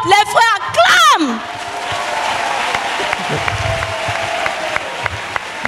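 A crowd at a gathering breaks into sustained applause and scattered cheering right after a short burst of a voice, the clapping holding at an even, moderate level to the end.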